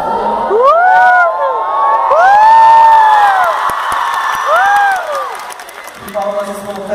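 A festival crowd of over a thousand people at LubaFest in Recife bursts into loud cheering, whoops and shouting mixed with clapping, close and sustained, with voices rising and falling before it thins out.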